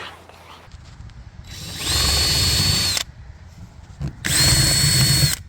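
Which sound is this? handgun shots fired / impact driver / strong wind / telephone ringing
impact driver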